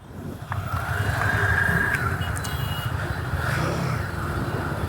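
A Royal Enfield Himalayan 450 motorcycle engine revs up, holds a rising whine, then drops back to a steady idle-like rumble, loud and close throughout.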